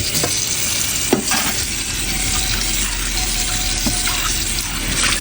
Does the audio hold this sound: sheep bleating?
no